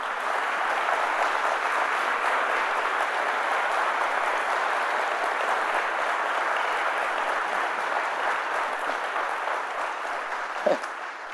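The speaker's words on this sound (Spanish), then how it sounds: "dale un fuerte aplauso a Jesús" Loud, sustained congregational applause at a Sunday morning church service, dense and even throughout, with a brief shout near the end.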